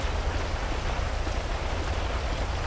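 Steady in-game rain from GTA 5 hisses evenly and continuously across the whole stretch, a broad wash of falling water with a low rumble beneath and no pauses.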